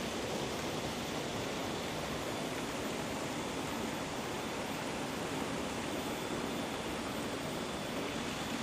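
River water flowing near a historic bathing site at Ngawonggo, a steady, uniform rushing hiss that fills the whole stretch without pause, with no voices.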